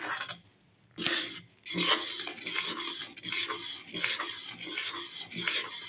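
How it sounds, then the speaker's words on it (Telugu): A spoon scrapes and rasps repeatedly around a pan as a thick milk-powder khoa mixture is stirred, producing close, rhythmic gritty strokes with brief pauses. "కొంచెం కలుపుతూనే ఉండాలి అయ్యే వరకు."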